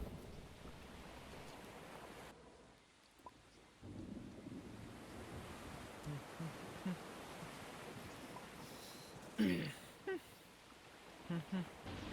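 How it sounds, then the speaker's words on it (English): Steady broadband wash of water and rumble, with scattered small splashes and thumps from characters splashing into water in the video game Creatures of Sonaria. "I'm hearing NPCs splashing into the water."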